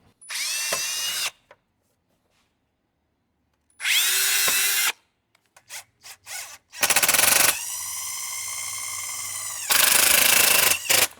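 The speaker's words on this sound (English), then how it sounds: "let me drill a pilot hole through this plastic so we don't bust it" A power drill runs in several loud bursts with silent gaps between them, close up, whining and grinding as it bores a pilot hole through plastic.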